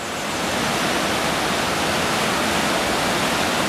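Water pours steadily over a river weir in a continuous, loud broadband rush, close by and unbroken, with no voices.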